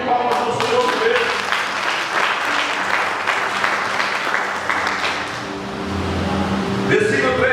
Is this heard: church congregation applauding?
yes